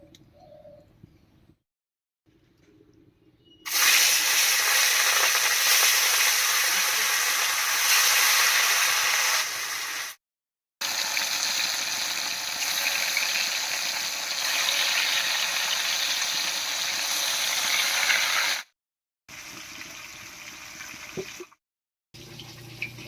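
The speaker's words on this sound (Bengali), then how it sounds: "এবারে কড়াইতে সর্ষের তেল দিয়ে মাছগুলো ভেজে নেবো" Rohu fish frying in mustard oil in a wok gives a loud, steady broadband sizzle in two long stretches separated by brief silent cuts, with faint birdsong outdoors around it.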